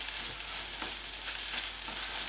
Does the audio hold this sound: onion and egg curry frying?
yes